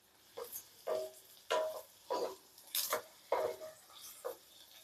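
Onion and garlic being sautéed for a tomato, mint and coriander chutney, with a spoon stirring and scraping the pan in repeated strokes about every half second over a faint sizzle, close and alone.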